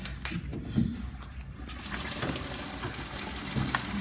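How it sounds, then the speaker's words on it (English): Water runs from a sink faucet in a classroom, a soft continuous rushing flow with a few small knocks and splashes, heard close and fairly quiet. "you'll see the water coming out as that air gap"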